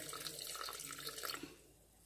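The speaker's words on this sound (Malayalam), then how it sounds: "ഇനി നമ്മൾ 4 കപ്പ് നാളികേരപ്പാൽ തയ്യാറാക്കിയിട്ടുണ്ടല്ലോ, അതിൽ നിന്ന് ഒരു കപ്പോളം ഈ കുക്കറിലേക്ക് ഒഴിച്ചിട്ട്" Coconut milk is poured into a pressure cooker while making navara rice payasam, a soft, steady liquid splashing for about a second and a half that then trails off into quiet.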